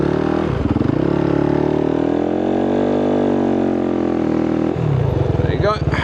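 A dirt motorcycle in first gear rides across the desert, its engine droning loud and steady up close, pitch rising and falling as it revs, with a shift near the end and someone talking over it.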